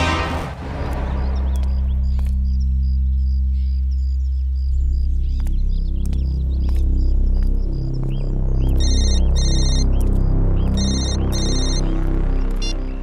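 A phone ringtone chirps electronically in repeated bursts over a low musical hum and background noise inside a mall, with no talking.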